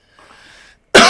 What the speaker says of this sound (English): Take your time to give it a good cough